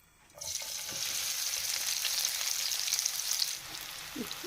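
Onions hit hot oil with a sudden burst of bright sizzling that holds steady for about three seconds, then eases off, with a few faint stirring knocks and no voices.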